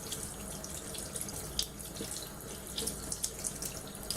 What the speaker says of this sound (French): Et ensuite je passe le tout sous l'eau.